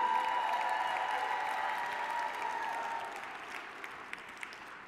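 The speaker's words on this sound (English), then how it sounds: "give Marshall Forston and Ashley Cooper a round of applause for that TV training" Sustained audience applause, steady and full at first, gradually thinning and fading toward the end with a few last scattered claps.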